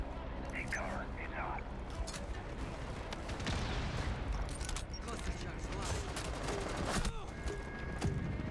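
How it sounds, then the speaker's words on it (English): Dense, continuous gunfire in a Rainbow Six Siege match, muffled and steady, with louder bursts and a sharp crack near the end, while players talk over it. "I was getting shot."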